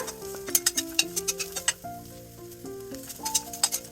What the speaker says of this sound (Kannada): ಈಗ 1-2 ನಿಮಿಷದಿಂದ ಇದು ಫ್ರೈ ಆಗ್ತಾ ಇದೆ.